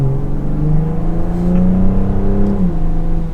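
Interior engine drone of a 2022 BMW M440i Coupe driving in automatic mode, a smooth steady hum rising in pitch and then dropping as a gear shifts, loud and close with no voices.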